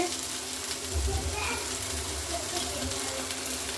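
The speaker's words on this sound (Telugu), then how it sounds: "బెండకాయ వేపుడైతే బాగా నీట్గా వేగిపోయిందండి" Okra frying in oil gives a soft, steady sizzle and crackle at low level, continuous and close, with a faint watery hiss beneath it and no voices.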